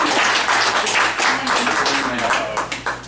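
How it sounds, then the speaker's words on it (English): A crowd at an organizational get-together claps in a dense burst of applause with cheering voices mixed in, the clapping thinning toward the end. "Give yourself a big applause, please."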